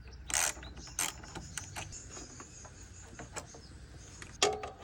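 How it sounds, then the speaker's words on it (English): Ratchet with a 10mm socket loosening the negative battery terminal on a 2004 Honda Civic, a series of close, crisp clicking pawl bursts, quiet overall with a louder burst at the end. "Remove negative terminal with a 10mm socket."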